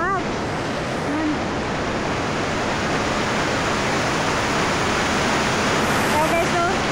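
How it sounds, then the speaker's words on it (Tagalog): Heavy rain pours down on a rural countryside home, a loud, constant, dense hiss filling the whole stretch, with faint voices briefly under it. "Sobrang lakas ng ulan."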